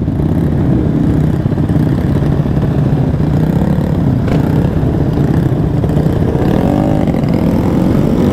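Motorcycle engine running through an aftermarket exhaust, a loud, continuous low rumble that holds steady throughout with slight swells, heard up close with no talking.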